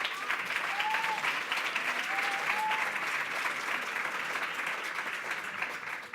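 Steady audience applause from a crowd of women at a leadership event, dense continuous clapping that stays loud throughout with a faint voice briefly audible over it.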